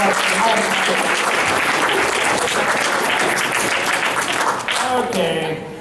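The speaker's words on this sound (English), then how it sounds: "big round of applause for these four for the first question." Loud, dense applause from a convention audience greeting four panelists at a fan festival, sustained for several seconds before thinning out near the end, with some voices mixed in.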